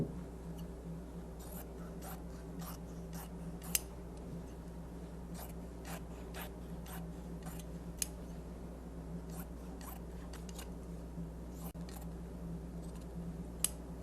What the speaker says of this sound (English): and then we just simply cut it